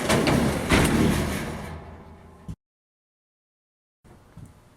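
A Frigidaire dryer door is shut, making a single short thump after a stretch of broadband noise, then a pause of silence followed by faint noise.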